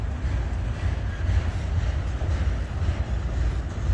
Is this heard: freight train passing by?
yes